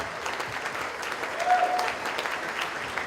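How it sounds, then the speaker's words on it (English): Guests at a wedding reception at The Merion in Cinnaminson, NJ applaud a couple in a steady, even round of clapping that fills the room at moderate distance and holds for a few seconds. "let's give a round of applause for Ian and Mary"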